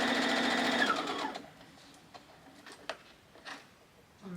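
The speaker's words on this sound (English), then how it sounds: "I like to just add a little extra stitching just to secure it." A sewing machine adds a short run of securing stitches on a tote bag, a quick close whirring burst that stops after about a second, followed by scattered faint clicks and handling taps.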